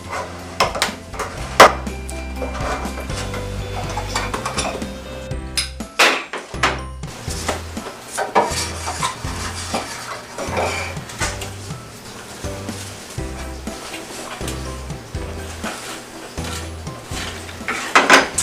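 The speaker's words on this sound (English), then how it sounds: "I'm going to open up the can of stain and always make sure you give it a stir" A metal can of wood stain is pried open and stirred, producing a busy run of close metallic clanks, scrapes and knocks, with irregular sharp hits over a low, uneven scraping, and no one talking.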